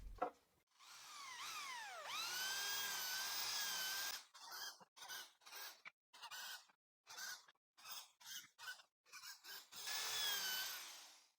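A handheld drill with a 3.5 mm countersink bit whines up to speed and runs steadily in pallet wood, then fires in a series of short bursts, stopping and starting, before one last longer run.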